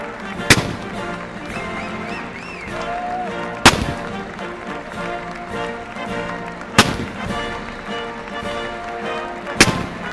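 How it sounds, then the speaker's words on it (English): Gun salute firing as a ceremonial tribute: four loud, sharp booming reports spaced about three seconds apart, over a continuous background of crowd noise and music. "3-gun salute. 4-gun salute."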